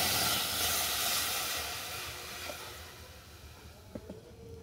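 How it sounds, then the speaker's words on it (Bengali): Water poured into a hot karahi holding turmeric-coated fish, giving a loud broad steaming hiss that slowly fades, with a few small clinks near the end. "কড়ার মধ্যে জল দিয়ে দিলাম"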